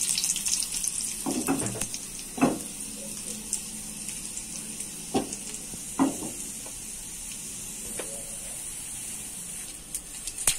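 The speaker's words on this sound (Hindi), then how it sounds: "अब इसके अंदर हम लाल साबुत मिर्ची ऐड करेंगे।" Whole red chilies dropped into hot mustard oil for a tempering while cooking sarson ka saag give a steady, moderately loud sizzle and hiss, with a few sharper crackles and stirring clinks, and no one talks.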